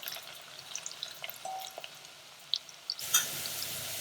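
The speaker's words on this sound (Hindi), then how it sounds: "अब हम डालेंगे प्याज। प्याज को अच्छे से गोल्डन ब्राउन कर लेंगे।" Onions frying in hot oil in a pan give a soft, crackling sizzle with scattered pops and stirring clinks, heard close and alone.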